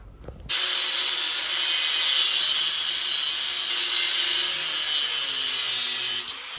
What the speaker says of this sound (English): Now I just gotta switch on to the flap disc so I could take all these burrs off of here